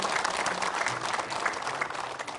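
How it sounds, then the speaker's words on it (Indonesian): A studio audience of women at an Indonesian religious talk show breaks into applause: continuous, lively clapping from a full room, loud and even throughout. "Boleh beli tepuk tangan buat kita semua di sini."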